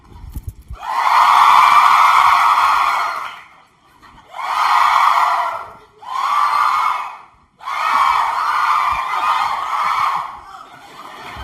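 A theater audience cheers in loud sustained bursts, a long roar followed by three more shorter swells of cheering and shouting with brief quiet gaps between them.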